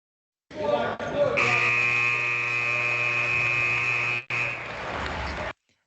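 A final buzzer closing a college football podcast episode: one loud, steady electronic drone that holds for several seconds, breaks off briefly, then sounds again before cutting out.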